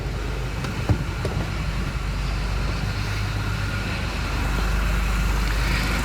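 A MINI Cooper with a newly replaced engine is driven gently, kept under 4,000 rpm. A steady engine and road drone is heard from inside the car throughout, even and unbroken.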